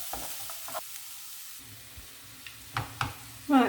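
Bacon dropped into a pan of cooking vegetables and stirred, giving scattered scrapes and taps over a low sizzle, with a louder burst of frying at the end.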